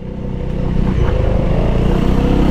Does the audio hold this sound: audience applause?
no